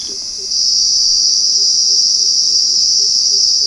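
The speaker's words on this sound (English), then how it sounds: "That's the sound of some insect in the jungle." An insect in the jungle buzzes in a steady, high, continuous shrill drone, loud and unbroken, with faint low chirps pulsing in the background.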